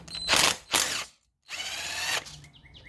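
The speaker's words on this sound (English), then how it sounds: "We're going to undo this bolt, and I'm going to use my power drill here." A power drill works a bolt loose on a Honda CBR600F4i motorcycle engine, close up in three loud whirring bursts with ratcheting clicks, divided by a short silent pause.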